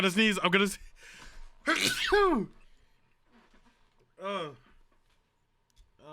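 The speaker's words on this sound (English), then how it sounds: "I'm gonna sneeze." A single loud sneeze bursts out between bits of close speech, followed by a short quiet gap and another brief voiced exclamation.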